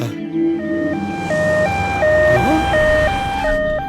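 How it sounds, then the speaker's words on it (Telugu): An ambulance siren wails in a loud, regular two-tone high-low pattern that repeats several times, close and dominant over faint background noise. "అంబులెన్స్ అనగానే అలా వచ్చేసింది."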